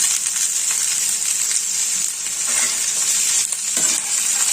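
Soaked chickpeas fry with potatoes in a pan for a banana flower dish, a steady bright sizzle with occasional scraping stirs and small clinks.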